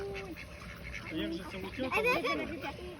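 Ducks and ducklings quack and honk in short, overlapping calls close by in Pocking, Lower Bavaria, while a person talks at the same time.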